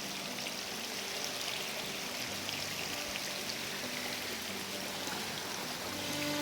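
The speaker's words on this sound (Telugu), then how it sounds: "చూడండి ఎలా ఉందో జలపాతం." Waterfall flowing during a nature trek at Munjuluru falls, a steady broad rush of water that stays fairly even and continuous throughout, with no talk.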